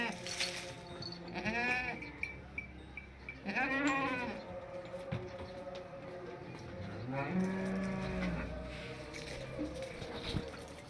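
Cattle on a farm, a Sahiwal Australian cross dairy cow and her calf, give several drawn-out moos and bleating calls, close and fairly loud, mixed with people talking nearby.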